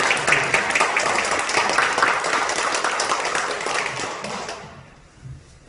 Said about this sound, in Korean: 우리 찬양대 힘내시라고 그냥 한번 격려해 박수 한번.